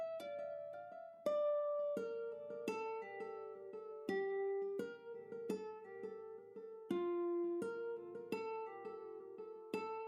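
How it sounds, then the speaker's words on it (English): Layered nylon-string guitar bounce from the Evolution Modern Nylon plugin, plucked notes following a chord progression in a steady rhythmic pattern, clean and alone, each pluck ringing with a natural decay. "So the first thing I did was use this Evolution Modern Nylon."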